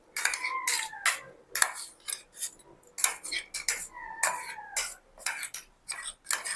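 Food served onto a plate while making khanavali-style badanekayi ennegayi, stuffed eggplant curry: a quick run of sharp metallic scrapes and clinks from a spoon against a plate, close and clear, in uneven bursts with short pauses.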